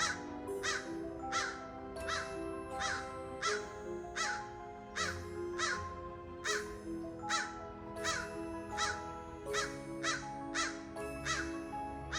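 A crow caws repeatedly from a tree, a steady series of harsh calls at a moderate distance, evenly spaced and ringing out over a faint outdoor background.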